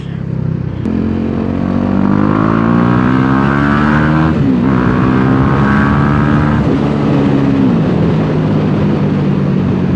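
BMW G 310 GS single-cylinder motorcycle ridden on narrow roads in Bali, its engine loud and steady throughout with rising and falling revs as it accelerates and shifts, plus wind rush.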